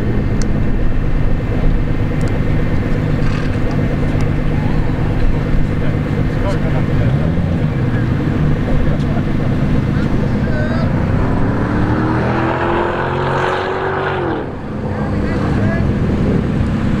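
A supercar on the TopGear race track, its engine droning under heavy wind buffeting and rising in pitch as it accelerates, with a voice talking over it.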